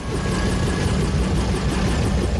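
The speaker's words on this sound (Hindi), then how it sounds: "ठीक सामने ये अपाचे अटैक हेलीकॉप्टर है।" An Apache attack helicopter deployed at a forward base near the Line of Actual Control in Ladakh gives a loud, continuous rotor and engine roar with faint rhythmic blade chop. It runs steadily throughout and is close and dominant.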